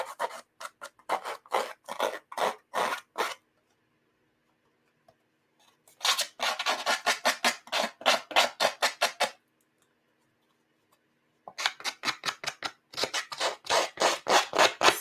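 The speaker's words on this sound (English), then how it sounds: "So I'm just going to rough up these edges with the scissors." Scissors roughing up the edges of paper for a stamping project: three bursts of quick, crisp rasping snips and scrapes in rapid rhythm, close and fairly loud, separated by silent pauses.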